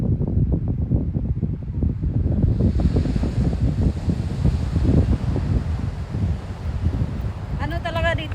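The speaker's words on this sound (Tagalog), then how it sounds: "So guys, nandito na tayo sa dagat." Waves break on a California beach under a grey, overcast sky, a steady low wash of surf mixed with wind rumbling over the microphone. A voice talks throughout, and a brief tonal sound appears near the end.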